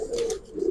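A domestic pigeon gives a soft, low coo, one short throaty call rising and falling within under a second, faint and close with no talk.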